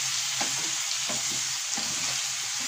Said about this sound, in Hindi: I am frying it